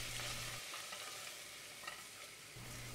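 Flour, red pepper paste, pepper flakes and thyme being sautéed in olive oil, giving a soft, even sizzle with faint scraping of stirring and a low hum underneath.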